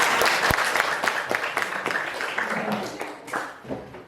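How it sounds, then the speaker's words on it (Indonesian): A classroom of students applauding, a short burst of mixed clapping that starts strong and thins into scattered, uneven claps, with faint voices in the room. "Kasih tepuk tangan dulu dong"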